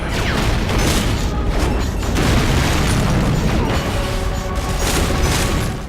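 Enemies burst apart in the video game Bionicle Heroes with dense, rapid-fire explosions and booming blasts. Mechanical clatter layers in, forming a loud, continuous barrage with no pauses.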